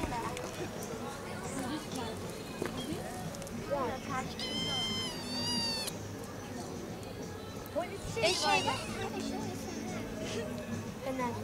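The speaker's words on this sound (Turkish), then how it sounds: "Kedi" A cat meows amid outdoor background chatter near the cliffs in Antalya, with a few short, fairly clear meows rising over the crowd noise and people talking nearby.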